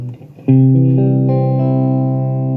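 A clean tone through an audio effects unit with reverb: a chord struck sharply then left ringing, its sustained notes slowly fading in a wash of reverb, close and clear with no talking.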